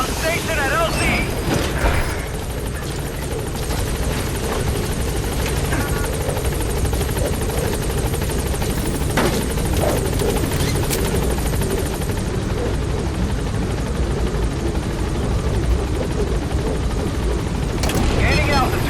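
B-Quad support helicopter in Metal Gear Solid 5: The Phantom Pain arriving at a landing zone, its dense, loud rotor roar steady throughout, with scattered bangs and radio voices over it.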